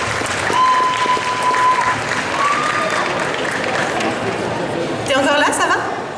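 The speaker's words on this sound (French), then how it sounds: "Et on applaudit très fort Princesse Peach." A cosplay contest crowd claps loudly and continuously, with voices and chatter mixed into the applause and a brief louder burst near the end.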